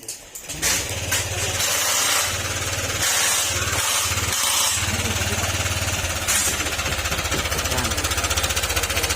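A Honda Click 125 scooter engine idles loudly up close with a rapid, rattling tapping from the motor, steady and continuous.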